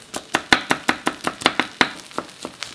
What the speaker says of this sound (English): I'll cut some garnish.